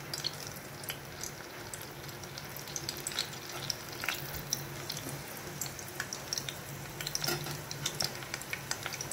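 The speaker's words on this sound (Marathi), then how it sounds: "आता इथे मी कढई घेतली आहे। आता मी कढईमध्ये टाकणार आहे थोडासा आपला कढीपत्ता टाकणार आहे।" Curry leaves crackle and sizzle in hot oil in a kadhai, tempering for Maggi noodles, a steady, close frying hiss with scattered sharp pops throughout and no talking.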